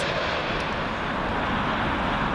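Brief burst of continuous engine roar from a United airliner in from Los Angeles, landing on Heathrow's runway 27L, loud and close with no speech over it.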